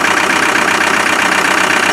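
A Land Rover 300Tdi diesel engine runs steadily with heavy back pressure, producing a loud, continuous, rough drone with a dense knocking texture and no pauses.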